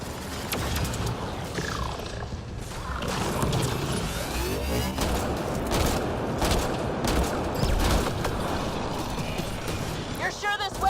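Rapid mechanical bursts of turret gunfire rattle through a battle in the video game Mass Effect Andromeda, layered over dense game effects and a roaring background din.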